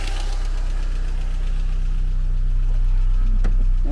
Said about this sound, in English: Now it's ticking quite bad.